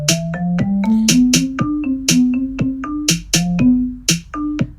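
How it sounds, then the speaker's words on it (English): A short melody picked out in single notes with wide leaps between them, about a dozen bright, plucked-sounding tones in an uneven rhythm, played alone and loud with no voices. "If you have big steps in a melody, it actually doesn't sound like a melody at all. It just sounds like notes."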